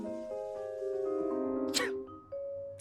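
A single short, bright sneeze bursts out over a sustained electronic tone that shifts pitch, with a chime-like note after it, in the video game Before Your Eyes.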